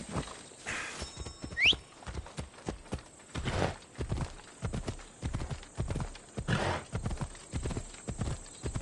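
Hooves of a horse in Assassin's Creed Odyssey clip-clop in a steady rhythmic trot, close and clear, with a brief whinny near the start.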